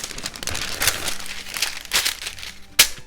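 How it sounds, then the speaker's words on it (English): A sheet of parchment paper crinkles as it is laid down for smash burger patties, a series of soft close rustles ending in a sharper crackle. "I'll just put down a piece of parchment paper"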